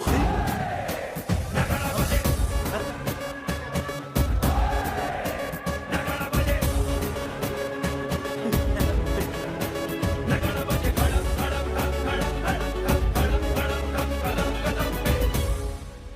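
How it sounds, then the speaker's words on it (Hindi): A growing crowd gathers in a Hindi-dubbed South Indian film, a loud continuous mass of voices and commotion blended with a dramatic score, sustained throughout with rising shouts. "भीड़ बढ़ती जा रही है सर।"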